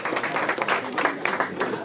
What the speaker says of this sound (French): Je voudrais d'abord qu'on applaudisse très fort Mélodie qui animera la soirée ce soir.